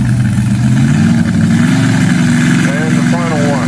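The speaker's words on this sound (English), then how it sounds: "that is a big cubic inch, big block Ford motor, naturally aspirated" A naturally aspirated big block Ford motor in a 2WD pulling truck at a county fair, rumbling loudly at a steady idle with a deep low throb, while a voice talks over it.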